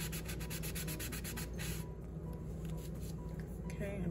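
Sandpaper is rubbed over the white-painted edges of a Dollar Tree tiered tray to distress them. Close, rhythmic scratchy strokes come quickly in the first seconds, then softer, scattered rubbing continues on its own.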